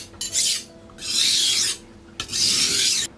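A chipped petty knife is rubbed across a whetstone in three long rasping strokes with short pauses between them, scraping near and clear to remove the burr.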